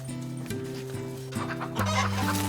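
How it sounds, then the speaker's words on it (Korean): Chickens cluck inside a coop during a winter chicken catch, with steady overlapping clucks and low droning calls close by; the birds sound agitated and grow louder near the end, and there is no talk. "닭장 안에선 욜란타가 드디어 닭 잡기에 성공했습니다."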